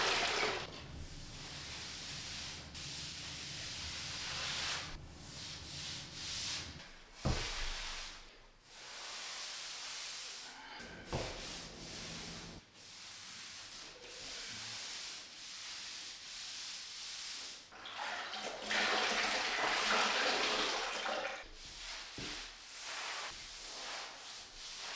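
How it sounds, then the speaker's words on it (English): Sponge rubbing and wiping excess grout from bathroom tile joints, a steady close scrubbing and swishing that runs throughout, with brief pauses and a few soft knocks. "go back with a sponge over all the grout joints that we just did and lightly wash off the excess grout"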